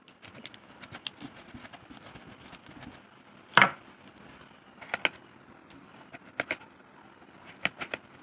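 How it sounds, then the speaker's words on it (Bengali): A watermelon being cut with a knife, soft repeated slicing and chopping taps with a couple of sharper knocks against the board, close and fairly quiet. "এখন একটা ছুরির সাহায্যে তরমুজটাকে কেটে নেব।"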